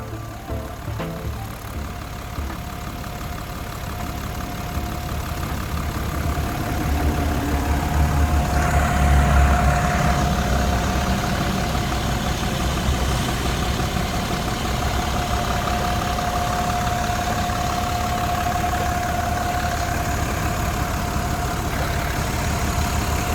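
A Mitsubishi 6M60 six-cylinder turbo diesel engine in a Tadano GR-250N-1 25-ton crane truck idles steadily up close, a continuous low rumble with a faint whine running through it.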